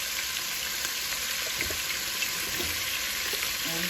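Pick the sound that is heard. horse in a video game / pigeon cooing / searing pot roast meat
searing pot roast meat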